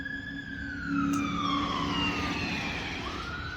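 An emergency siren wails up and down in New Bern, North Carolina, its sweeping tone rising and falling at a moderate distance over steady background noise.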